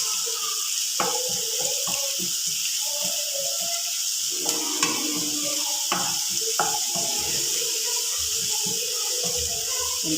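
Ginger kichadi simmers in a pan, giving a steady soft sizzling hiss with a few scattered clicks and scrapes from stirring throughout.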